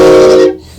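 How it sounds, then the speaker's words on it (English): A brief, loud train whistle blast sounds up close, a rich tonal hoot that holds for about half a second before cutting off sharply into quiet. "This is a train whistle."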